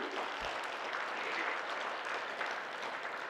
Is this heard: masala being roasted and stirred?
no